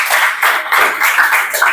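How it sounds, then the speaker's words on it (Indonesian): Classroom applause for a pupil, a steady crackle of many hands clapping together for under two seconds, fairly loud and close, with no talking over it. "tepuk tangan untuk Isabella"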